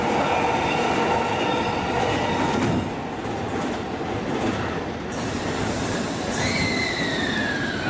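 The last train to Tsuchiura departs JR Ueno Station, rumbling loudly and continuously, rolling noise dominating, then easing slightly as a high metallic squeal of wheels rises near the end.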